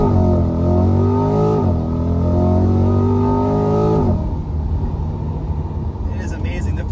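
A Chevrolet Corvette C8 launches hard using launch control: its engine roars loudly and climbs steeply through the gears, with a quick shift in the middle, then gives way to a rougher rushing drone as it pulls away.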